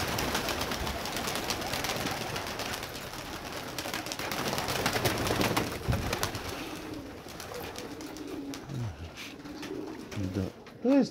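Armavir fighting pigeons startled into flight in winter, with a busy flutter of wings and soft coos early on, then scattered bird calls near the end, all under ongoing talk.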